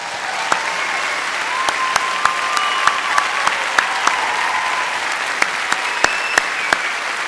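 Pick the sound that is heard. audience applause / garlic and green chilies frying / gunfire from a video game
audience applause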